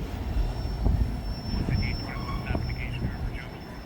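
A freight train rolls past, its last car an auto rack loaded with SUVs. It makes a steady low rumble with faint squeals and clanks, close and continuous.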